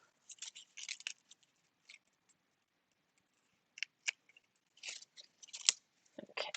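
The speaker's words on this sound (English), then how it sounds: "this one needs a snip" Faint, crisp scissor snips trim leftover bits after Cricut machine cutting, coming in short irregular clusters separated by quiet pauses.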